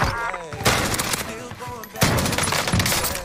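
OTS 9 submachine gun fire in Call of Duty: Warzone, with two loud, dense bursts of rapid shots, the first about half a second in and the second near the two-second mark, over game background noise.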